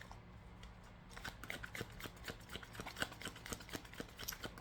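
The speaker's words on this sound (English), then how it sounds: "I'm going to shuffle these up a little bit from the last reading." A deck of tarot cards is shuffled by hand, a quiet series of soft crisp riffling snaps repeating in an irregular rhythm, close and faint.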